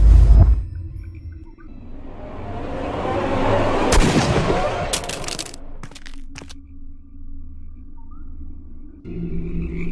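A gunshot in the Sherlock Holmes: Crimes & Punishments video game rings out as a sharp crack over a rumbling, noisy scene. A couple of quick secondary clicks and a low steady hum follow.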